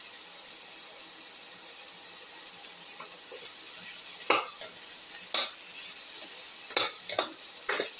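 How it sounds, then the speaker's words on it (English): Tomato pieces are stirred in a hot pan for a cauliflower tomato rice soup: a soft steady sizzle, then several distinct scraping strokes of the spoon toward the end, close by. "Thoroughly mix the tomato pieces."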